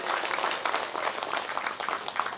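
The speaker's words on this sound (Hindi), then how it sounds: "ताली बजाइए।" Audience applause at a Bhagavat katha, a dense, steady wash of many hands clapping together for the whole stretch, fairly close and unbroken.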